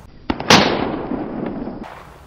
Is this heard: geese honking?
no